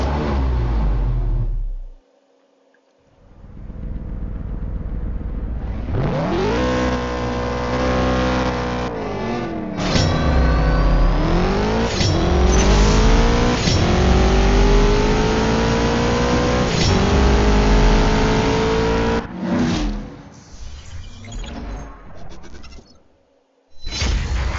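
Race cars in the CSR2 racing game, a BMW M2 Competition against a Ford Mustang, revving loudly and accelerating hard through repeated rising gear pulls for a sustained stretch, with a brief pause before and a drop-off at the end.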